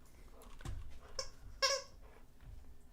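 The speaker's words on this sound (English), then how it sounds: "Sorry if you hear his toy squeaking." A dog's squeaky toy gives a few short, faint, high squeaks near a microphone, with a sharper squeak in the middle and soft background sounds around them.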